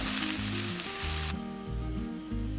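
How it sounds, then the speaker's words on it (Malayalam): Thinly sliced onion sautés in ghee with a loud, close, continuous sizzle, with soft stirring noises under background music. "ഇതിലേക്ക് 1 സവാള നല്ല കനം കുറച്ചരിഞ്ഞത്, ചെറുതാണേ, ഒരു ബ്രൗൺ നിറാകുന്ന വരെ ഒന്ന് വഴറ്റണം."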